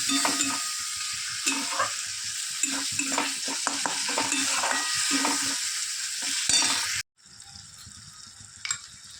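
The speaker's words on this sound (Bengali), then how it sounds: "তারপরে একটু কষিয়ে নিলাম।" Ground cumin, coriander, dry red chilli and Kashmiri chilli powders sautéing in a pan, with a steady loud sizzle and repeated stirring scrapes, then a sudden drop to a quieter hiss near the end.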